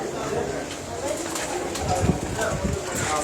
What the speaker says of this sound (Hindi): ले जी ये काले मुंह वाला कबूतर आपको दिखा रहे